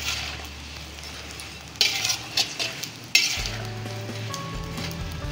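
Grated coconut roasting in hot ghee with edible gum in a pan, a steady sizzle broken by a few sharp scraping stirs and clinks of a spoon, close and fairly loud with no talk.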